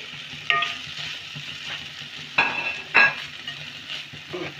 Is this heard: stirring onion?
yes